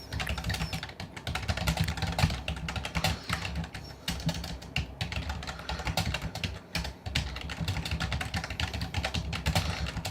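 A computer keyboard being typed on continuously, a dense, steady patter of key clicks up close with no speech, as a sentence is entered in a word processor.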